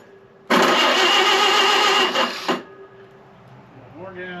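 A Model A Speedster engine cranks, a loud harsh mechanical whirring burst lasting about two seconds before cutting off, followed by faint low rumble and a brief voice near the end.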